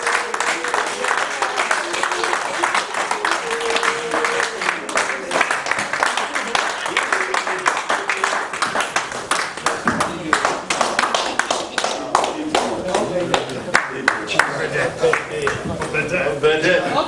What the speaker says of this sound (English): Please, a big round of applause for Mr.